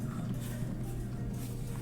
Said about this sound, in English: Trom is a horse.